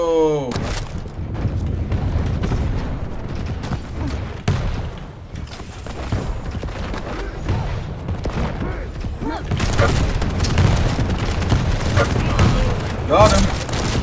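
Shotgun blasts from a Doom-style first-person shooter, heavy booming reports with mechanical reload clatter, dense and loud throughout, the firing quickening in the final stretch, with a voice speaking over the action.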